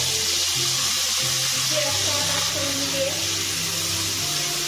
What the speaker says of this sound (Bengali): এটাকে ভালো করে ভাজতে হবে। দারুণ একটা ফ্লেভার আসে 5 ফোড়ন আর পেঁয়াজের সাথে একসাথে।